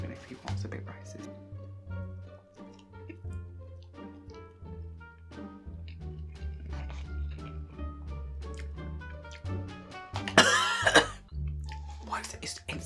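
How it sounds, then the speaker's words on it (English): A person coughs in a short harsh burst while eating spicy volcano ramen noodles, close to the mic, among ongoing talk and quiet background tones. "Why does it instantly make you cough?"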